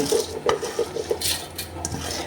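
Soaked rice with its soaking water is tipped into a mixer grinder jar. Close clinks and knocks of utensil on jar come in a quick cluster, followed by a few softer scrapes and splashes, with no voices.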